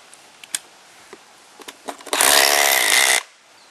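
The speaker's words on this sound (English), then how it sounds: "We're going to use a 9/16 inch socket head and then just drive them straight into our pilot" A power tool drives a plate-lock anchor into a pilot hole through a 9/16 inch socket while securing a road plate. A few scattered clanks come first, then about a second of loud, close grinding whir that stops abruptly.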